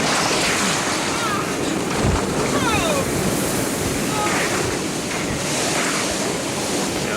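Typhoon Omar in Guam in 1992, with a steady roar of gale wind battering the microphone over crashing surf, loud and close throughout, while a brief voice is heard beneath the storm.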